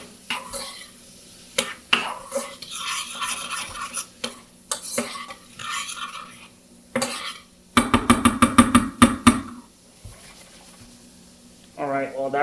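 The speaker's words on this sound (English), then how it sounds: "the idea is to deglaze your pot" A utensil scrapes and stirs across the bottom of a pot to deglaze the brown bits left by cooked bacon, with a burst of rapid rhythmic scraping midway, while a person talks throughout.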